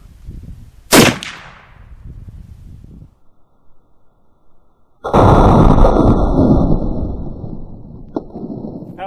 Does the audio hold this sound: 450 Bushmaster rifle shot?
yes